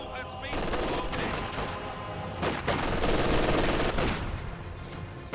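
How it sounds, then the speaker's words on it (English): Sustained MG42 machine-gun suppression fire in a multiplayer World War II strategy game: dense, rapid bursts that keep layering over rumbling battle noise for several seconds, loud and continuous. "Grenadiers secure the building, plus MG42 suppression forces that squad away."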